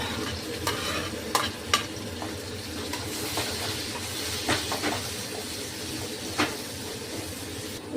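Green chilli chicken frying in a pan as tomato is added: a steady, close sizzle with stirring scrapes and a few sharp clinks of the utensil, and no talk.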